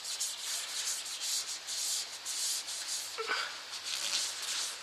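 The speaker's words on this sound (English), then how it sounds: "Now I can add the lathe polish. Again, rubbing it into the grain." Lathe polish being rubbed into a spinning yew wood goblet with four captive rings, turned at a fast speed: a steady, close hiss of cloth on wood in repeated surging strokes over a low motor hum, with no talking.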